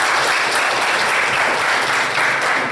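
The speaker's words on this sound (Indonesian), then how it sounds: "Tepuk tangan dulu. Tepuk tangan." Audience applause during a quiz competition in Tarutung, 2015: a roomful of people claps loudly and continuously, a dense steady wash of hand claps with no speech over it.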